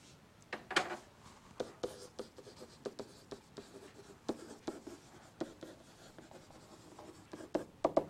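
Pen or pencil scratching on paper while a division statement is written out by hand, in short irregular strokes with brief pauses between bursts, close and fairly quiet.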